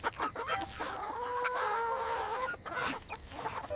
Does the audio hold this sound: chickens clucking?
yes